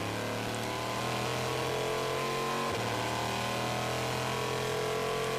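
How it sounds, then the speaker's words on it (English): A Le Mans 24 Hours endurance race car from the 2009 race, running on Michelin tires, holds a steady loud engine drone that briefly dips and then resumes as the car pulls away, with no talk. "Gavin fires it up. He'll double stint the Michelin tires and is back underway"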